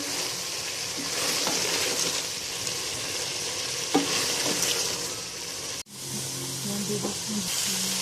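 Kidney beans sizzle steadily in a hot pan with a constant frying hiss, broken by occasional scraping stirs and a brief pause near the end.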